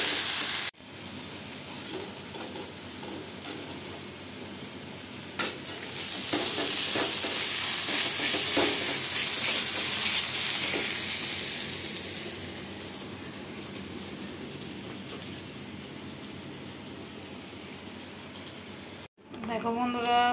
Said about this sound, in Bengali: এবার আমি বেগুনিটা করে নেব।